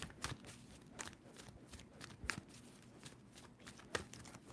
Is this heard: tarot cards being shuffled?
yes